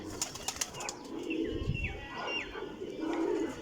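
Pigeons coo nearby in soft, low repeated calls, with a brief flutter of wings and light chirps mixed in among a small flock.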